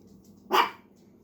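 One sharp, fairly close bark from a pet dog excited by someone arriving home rings out alone over a quiet, low-humming room.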